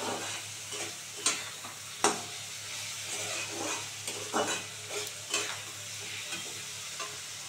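Onion and potato pieces with turmeric frying in a pan over raised heat for a green peas ghugni, a steady sizzle broken by sharp spoon scrapes and stirring clatters, close and moderately loud with no talk.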